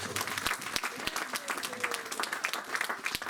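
Church congregation applauding and cheering during a sermon, dense clapping with sharp individual claps throughout, a few voices calling out over it.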